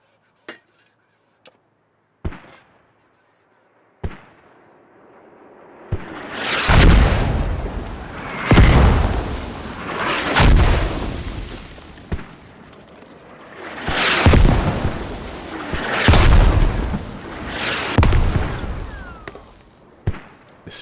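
Mortar rounds land in a competitive Squad match, starting with sharp distant pops and then a run of heavy, rolling explosions in close succession, each booming and fading before the next.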